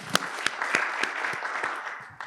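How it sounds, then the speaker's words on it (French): Scattered applause at a workshop on market access in Senegal, a small group clapping with a few sharp, distinct hand claps standing out over softer clapping for roughly two seconds. "Ça mérite des applaudissements pour les femmes"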